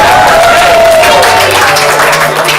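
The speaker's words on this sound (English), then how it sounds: "Let's have a big round of applause for Patrick Short on keyboard." An audience claps and cheers for keyboard player Patrick Short at a live ComedySportz improv comedy show, a loud, dense, steady round of applause that fills the whole clip.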